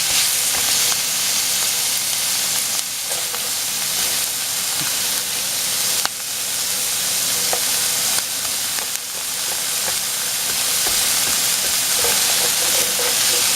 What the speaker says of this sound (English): we're going to saute this for a couple of minutes